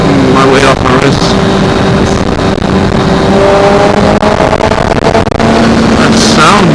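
Kawasaki ZX6R 636 sport motorcycle engine at speed on the road, a loud continuous high-revving howl with shifting pitch and heavy wind rush throughout, close and dominant.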